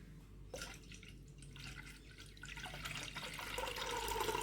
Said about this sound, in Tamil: புளி கரைச்சி அந்த தண்ணியை எடுத்திருக்கேன் அதை இதோடு சேர்த்துக்கலாம்